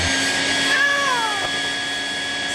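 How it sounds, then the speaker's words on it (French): A cat in a cartoon gives one drawn-out meow that rises and then slides down, heard over a steady hum of background music and effects. "Sergent Boomer, il faut que tu effraies le chat pour qu'il s'en aille."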